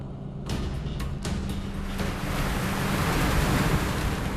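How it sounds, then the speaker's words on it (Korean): Ocean waves and strong wind at sea beside a fishing boat hauling nets for yellow croaker off Chuja Island, a steady loud broadband roar with gusts rising and falling, plus a low engine hum and a few sharp knocks early on. "파도의 움직임이 심상치 않습니다"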